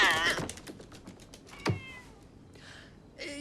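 A cartoon cat gives a few short meows between clicking, tapping noises, with a brief sharp rising mew in the middle and a voice heard faintly near the end.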